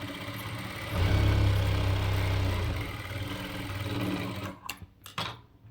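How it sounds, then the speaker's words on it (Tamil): A Jack F4 sewing machine stitches cloth with a loud, close, steady motor whir. It surges early, runs on evenly, then gives way to a few clicks and handling knocks at the end. No one speaks. "இது பண்ணிவிட்டு இப்போ நான் தைக்க போகிறேன்."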